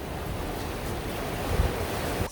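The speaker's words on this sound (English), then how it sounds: "That's some fast flowing water." Fast-flowing river water rushes beside a mountain trail in the Icefields area off Highway 93, a steady broadband roar mixed with wind buffeting the microphone, with no voices.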